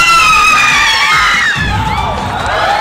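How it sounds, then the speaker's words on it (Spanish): A live TV studio audience cheers and shouts loudly and continuously, with children's high whoops rising over the dense, close crowd roar for the whole stretch. "¡Aplausos!"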